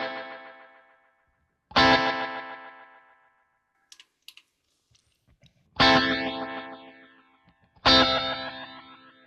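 Guitar through a Kemper Profiler delay set to emulate a Space Echo: three separate struck chords, each followed by decaying tape-style repeats that fade out, with faint clicks in the quiet gap between them.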